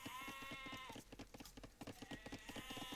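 Sheep in the Age of Empires video game bleat in short repeated calls, with a steady clicking rhythm and game background tones running throughout, fairly faint and uninterrupted by talk.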